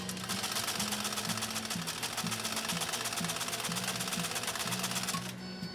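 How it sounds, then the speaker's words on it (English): A PFAFF 332 sewing machine stitches leather with a steady, fast mechanical chatter and a repeating low thump. It runs continuously up close and stops abruptly near the end. "final sew off on this 332"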